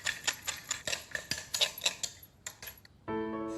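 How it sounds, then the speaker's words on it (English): A utensil clinks steadily against a bowl while saffron sauce with lemon juice, salt and pepper is mixed smooth, a quick rhythmic tapping for about three seconds before a brief tone takes over. "And just mix it until it's all smooth"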